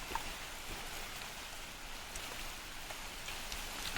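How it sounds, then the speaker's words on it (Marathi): Steady rain pours down on a tomato field in a dense, even hiss, close and constant, with scattered drops pattering on nearby surfaces throughout. "पाऊस आला"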